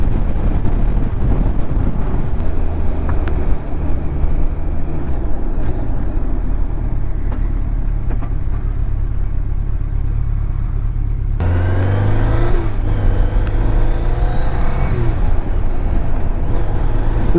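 BMW K1200RS motorcycle riding on the road, its engine a loud continuous rumble mixed with heavy wind buffeting, with a rise in revs partway through as the rider accelerates.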